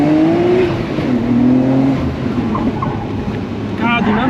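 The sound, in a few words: Nissan Skyline GTR R33 accelerating on a hot lap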